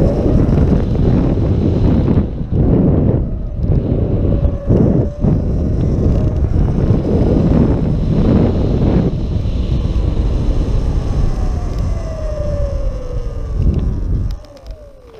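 Surron X electric dirt bike with a GLE dashboard wiring mod being ridden down a road, heavy wind buffeting the microphone throughout and a motor whine rising in pitch near the end before the roar drops off.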